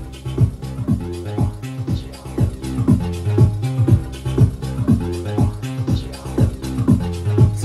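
A techno track looping: steady thumping low beats with a sustained tonal bass and busy higher texture, moderately loud and continuous.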